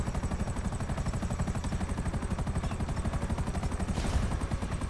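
Helicopter in Grand Theft Auto Online, a loud, fast rhythmic rotor chop pounding continuously with a brief surge near the end, no voices over it.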